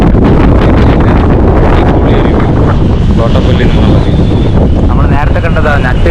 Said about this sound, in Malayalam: ഭയങ്കര കാറ്റാണ് ഭയങ്കര കാറ്റും